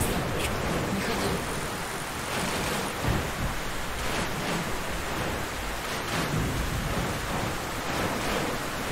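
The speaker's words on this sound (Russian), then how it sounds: "Да, буря." Storm in Metro Last Light, with steady heavy rain hissing across the whole scene and low rumbles of thunder rolling beneath it, constant and fairly loud with no voices.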